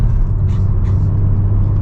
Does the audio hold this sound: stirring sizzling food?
no